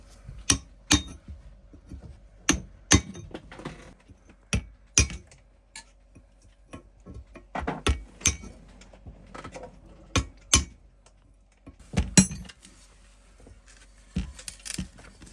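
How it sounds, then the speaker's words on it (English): A hammer taps and chips at a salt-water crust on a genset in sharp, irregular metallic strikes, some in quick pairs, with quiet pauses between. "So it's slowly chipping away."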